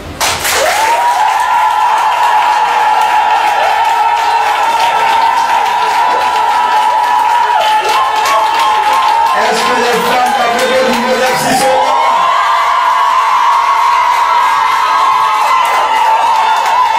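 A crowd at a gathering in Abidjan applauds and cheers the women of GESCO. A loud, sustained shrill ululating tone rides over dense clapping and crowd noise throughout.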